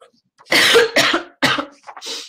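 Three or four harsh coughs in quick succession, close and loud, followed by a softer throat sound.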